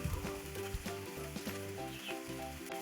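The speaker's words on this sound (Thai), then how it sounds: "ผัดคลุกเคล้าให้เข้ากัน" Baby corn and minced chicken are stir-fried in a pan with a loud, steady sizzle, and spatula scrapes and clacks repeat in an uneven rhythm close by, with no talking.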